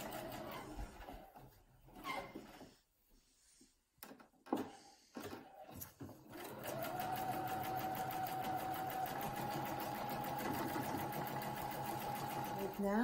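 A sewing machine quilts through the three layers of a fibre-art wall piece, starting after some handling noises and then running as a steady close rapid stitching whir, with a voice talking over part of it.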